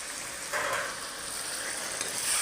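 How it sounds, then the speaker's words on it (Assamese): Chicken pieces sizzle and fry steadily in a pan, a close, continuous crackle with faint stirring scrapes and no talking. "এতিয়া মাংসখিনি ভালদৰে ফ্ৰাই হৈছে।"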